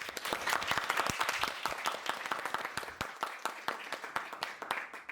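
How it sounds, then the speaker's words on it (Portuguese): A studio audience applauds in a steady wash of dense hand claps for a new Brazilian series launch, loud and continuous throughout without any talk over it. "Uma salva de palmas para a nova série do Manda Notícias."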